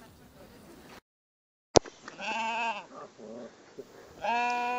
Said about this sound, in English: leading a flock of sheep along the side of the hill